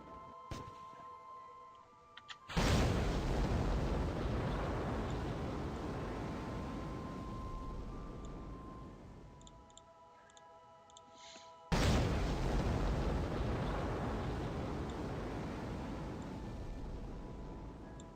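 Rocket first stage separating, heard as two sudden loud broadband bursts several seconds apart, each followed by a sustained roaring rush that slowly fades, with no talking.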